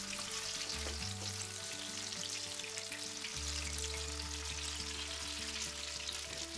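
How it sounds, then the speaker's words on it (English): Clumps of bok choy fritters in batter sizzle steadily in hot oil, a dense continuous crackle heard close up and alone, with soft low background music beneath. "So you're not frying the individual pieces of bok choy,"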